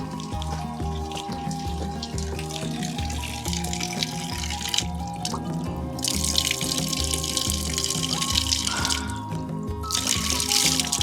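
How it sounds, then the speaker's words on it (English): Cool, fresh mountain water runs from a spout or spring beside a forest road in rural Albania, a steady close splash and trickle that carries on continuously with no talking. "Cool mountain water."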